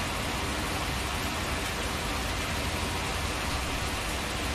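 Rain in the Farming Simulator 19 farming video game, a dense, steady hiss of falling rain that stays constant and fairly loud throughout, with no talk over it.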